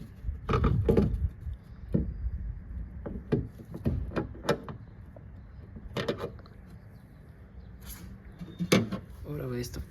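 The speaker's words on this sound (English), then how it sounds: "Okay, so let's take the door check out." Mechanical clunks and clicks of a door check on a Toyota Land Cruiser 100 Series being worked loose and pulled free, several sharp knocks and rattles with low background rumble.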